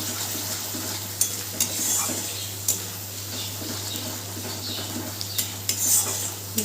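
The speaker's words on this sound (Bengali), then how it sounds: "সমস্ত কিছু দিয়ে ভালো করে মিশিয়ে নেব।" Spices for boal fish curry stirred in a pan with a little bowl-rinsing water, a steady soft sizzle under scattered scraping clinks of a spoon against the pan.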